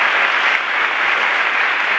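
Falleros in Valencia applaud their new Fallera Mayor, a loud, dense and continuous wash of clapping from a large crowd that holds evenly throughout.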